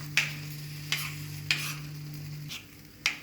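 Eggplants for begun bharta cooking in a pan, a steady low sizzle broken by about five sharp scraping stirs of a utensil at uneven intervals, close by and fairly quiet, with no voices.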